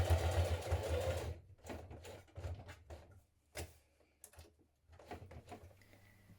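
A sewing machine top stitches the pocket flaps of a jean jacket, first in a loud continuous whirring burst, then in short stop-start runs of stitching separated by quiet pauses.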